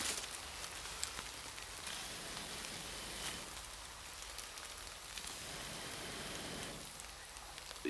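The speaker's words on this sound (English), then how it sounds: "It has started to rain" Light rain falling over a forest bushcraft camp during a thunderstorm, a steady soft patter of drops on leaves and surfaces, fairly faint and continuous with a few brighter ticks.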